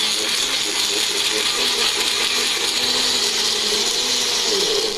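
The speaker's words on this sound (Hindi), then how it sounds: "अपनी मिक्सी पे इसको यहाँ पे अच्छे से टाइटली बंद कर दिया और ये ऑन कर दिया हमने" A kitchen mixer grinder blends a homemade protein shake, whirring continuously at high speed, a steady loud motor drone with rattling contents, no pauses.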